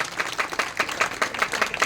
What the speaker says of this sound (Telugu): అందరూ కూడా చప్పట్లు కొట్టాల్సింది కోరుతున్నాం